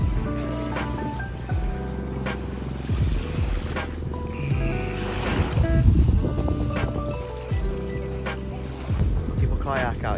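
A longtail boat engine drones steadily on warm tropical water off Koh Lipe, Thailand, a loud harmonic rumble running throughout with waves and wind, swelling midway; voices speak over it.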